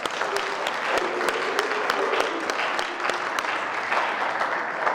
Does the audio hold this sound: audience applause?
yes